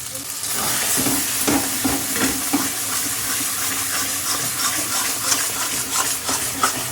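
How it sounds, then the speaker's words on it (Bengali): Masala with cashew, poppy seed and melon seed paste frying in a pan, a loud continuous sizzle broken by repeated scraping strokes as it is stirred, with no talking. "ভালো করে নাড়াচাড়া করে হয়ে এসছে মশলা কষানো হয়ে গেছে"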